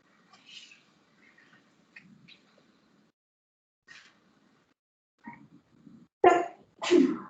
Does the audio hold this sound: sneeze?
yes